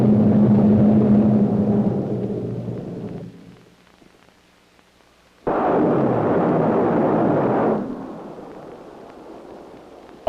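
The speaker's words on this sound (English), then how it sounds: "a Terrier missile is fired from the USS Los Angeles" A Terrier missile launched from the cruiser USS Los Angeles, a loud roaring rush that fades, falls nearly silent, then bursts back in as a second heavy roar before tapering off, with no talking.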